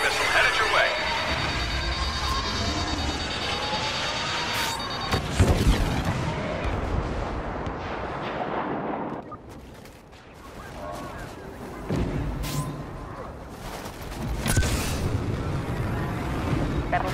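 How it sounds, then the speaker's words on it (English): A homing missile attack in the Star Wars Battlefront video game, with heavy booming blasts and rapid gunfire crackling over a loud, sustained battlefield roar. The barrage thins briefly midway, then resumes with sharp impacts. "Homing missile headed your way."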